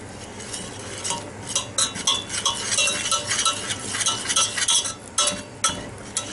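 A utensil stirs flour into ghee and butter in a pot, making close, uneven scraping and clinking strokes in a loose repeating rhythm with a soft sizzle underneath and no talking.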